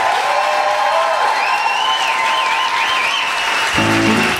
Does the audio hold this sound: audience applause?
yes